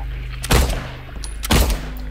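Two loud, booming gunshots from Silent Hill 2 Remake, spaced about a second apart, each a sharp broadband blast with a brief decaying tail over a low steady ambient hum.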